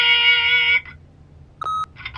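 A short electronic beep from an answering machine in The Wolf Among Us video game sounds once near the end, following a steady tonal chime, with faint blips trailing after it.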